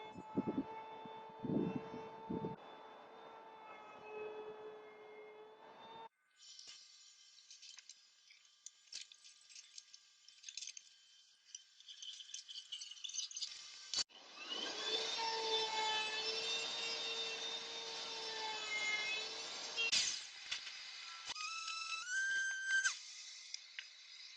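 Router cutting molding into wood for a loft-style bench footrest, a high whining tonal motor drone that rises and changes pitch as the bit bites in, with a short quieter stretch and bursts of cutting noise.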